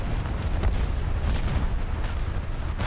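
Torpedoes striking a Mississippi battleship in a naval combat game: dense, continuous booming blasts and rumbling impacts, loud and close, with no pause between them.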